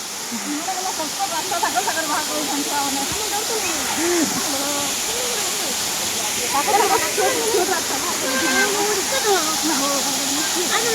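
Daringbadi rainbow waterfall roars as a steady, loud hiss of falling water, with a few people talking and exclaiming over it throughout.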